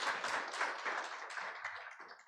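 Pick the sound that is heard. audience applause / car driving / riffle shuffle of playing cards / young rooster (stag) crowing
audience applause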